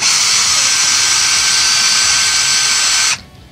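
A high-pitched power drill whines steadily for about three seconds while drilling into wood, then cuts off abruptly, leaving a faint low hum.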